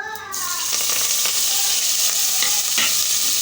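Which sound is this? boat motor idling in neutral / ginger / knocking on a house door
ginger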